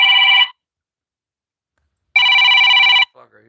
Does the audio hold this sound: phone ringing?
yes